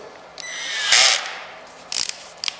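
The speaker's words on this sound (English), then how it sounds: "we want to first put the bit inside the drill." A drill chuck whirs briefly, then gives short ratcheting clicks in two quick bursts as it tightens.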